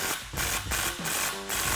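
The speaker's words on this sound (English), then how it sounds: "we'll go ahead and tighten up this clamp using our 15 millimeter socket" A ratchet fitted with a 15 mm socket tightening a clamp on a Mustang EcoBoost cat-back exhaust pipe, giving four short rapid clicking bursts close up with brief pauses between them.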